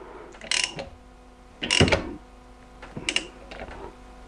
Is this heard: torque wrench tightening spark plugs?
yes